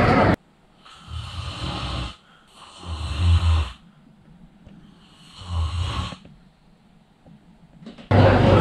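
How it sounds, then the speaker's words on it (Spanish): Loud snoring from a person sleeping in a pilgrims' hostel dormitory in Galicia, three long rasping snores with deep rumbling inhalations separated by quiet pauses, close and alone. "a veces en alguna de esas habitaciones te encuentras con uno que ronca muchísimo"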